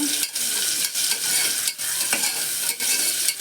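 Chopped onion stirred and fried in a pan until reddish for a Konkan-style mung bean dish, giving a loud, steady sizzle with repeated scraping strokes of the spoon, close by and with no talk.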